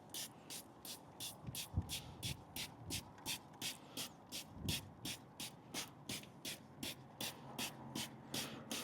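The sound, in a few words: spraying pre-wash on car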